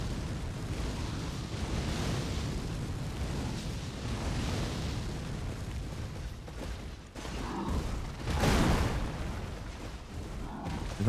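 Fireball attacks roar and burst in the Elden Ring video game, with a continuous rumbling blast and a louder surge near the end.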